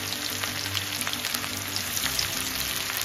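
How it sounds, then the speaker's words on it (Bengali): Onions frying in hot oil at the start of a mutton curry make a steady, dense sizzle with fine crackling pops, close and continuous with no one speaking. "তেলের মধ্যে এই পেঁয়াজ দিয়ে দিলাম"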